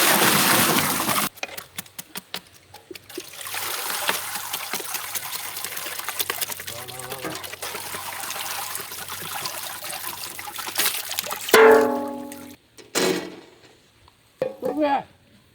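Watermelon juice poured in a village setting makes a strong, splashing liquid rush that thins into dribbles and short trickles, with brief voices near the end.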